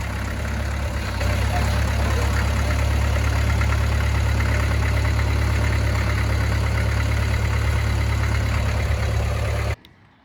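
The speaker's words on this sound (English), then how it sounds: "So here we can see Andrew's loading up his 276." A British McCormick 276 tractor engine runs steadily at idle, loud and close, a continuous low chugging drone that cuts off abruptly near the end, with no talk over it.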